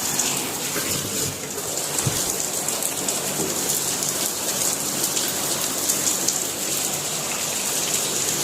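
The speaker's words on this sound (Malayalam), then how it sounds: "ഭയങ്കര മഴ, ഇടിയും വെട്ടുന്നുണ്ട്." Heavy rain pours steadily and loudly throughout, a dense close hiss of drops on surfaces, with a brief low rumble of thunder early on and no talking.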